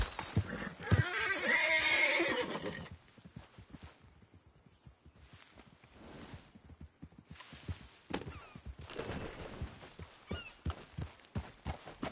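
A horse neighs loudly and close at the start, followed by soft hoof clip-clops and shuffling thuds, in the video game Red Dead Redemption 2.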